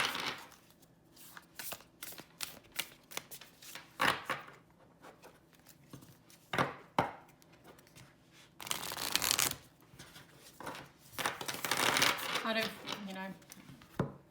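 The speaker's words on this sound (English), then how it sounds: "Now, the deck shuffles nicely." A Moonology oracle card deck being shuffled, repeated crisp riffling and flicking bursts of cards near the microphone, with a person talking between and over the shuffles.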